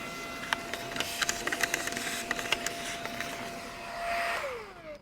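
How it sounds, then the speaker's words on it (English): Vacuum cleaner sucking debris, leaves and sticks out of a Mercedes GLS 450 engine air filter housing, a steady close whine with irregular clicks and rattles of debris, then the motor winds down at the end. "So we've got most of the big stuff vacuumed out."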